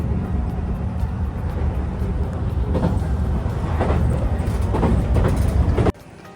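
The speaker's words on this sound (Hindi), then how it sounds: "क्योतो से हमने ये ट्रेन ली है और अब हम लोग जा रहे हैं नारा" A passenger train running from Kyoto to Nara, Japan, heard from inside as a steady low rumble with rising clatter of wheels over rail joints, continuous and fairly loud before dropping off abruptly near the end.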